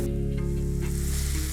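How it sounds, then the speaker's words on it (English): Grated apples and sugar frying in hot desi ghee, giving a close, dense and steady sizzle with a faint low hum beneath it and no voices. "once ghee is hot, I'll add grated apples and little sugar"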